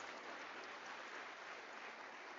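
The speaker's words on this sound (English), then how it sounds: "Let us give her a round of applause for the pearls of wisdom." Audience applause at a University of South Africa autumn graduation ceremony, steady and faint, a dense unbroken patter of clapping that holds at even strength for the whole stretch with no voices over it.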